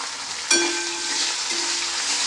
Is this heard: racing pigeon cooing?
no